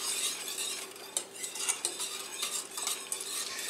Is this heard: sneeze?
no